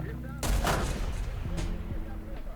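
Object 292 tank cannon firing in War Thunder: one sharp, loud blast with a quick echoing tail, then a short rumble, heard over game noise.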